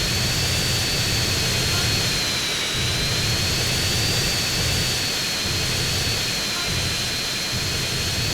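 A roaring airplane jet engine in GTA San Andreas during a Las Venturas airport race, loud and continuous with a steady high whine over a rumbling low drone, a voice faintly present beneath.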